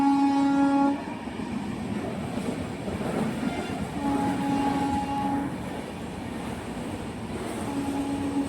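At a railway platform, train noise rumbles steadily while a tonal horn sounds three times: a blast at the start, a longer one midway and a short one near the end.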